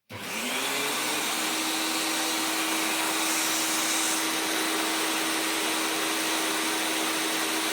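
A vacuum cleaner switches on and runs steadily, a loud close whine over a constant motor hum, unbroken for several seconds with no speech.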